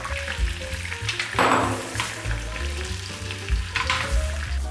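Egg mixture frying in a buttered frying pan over low heat, a continuous close sizzle with a brief louder hiss burst as it spreads, plus light scraping.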